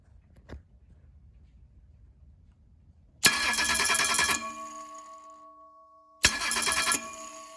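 A Ford engine, just fitted with a replacement starter, gives one faint click, then cranks and catches into a loud close-up run that settles toward idle. After a silent pause it is cranked and started a second time.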